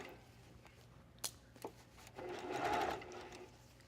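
A sewing machine stitching bias tape trim onto a little black dress, faint and close, with a short run of rapid stitching after a few soft handling clicks.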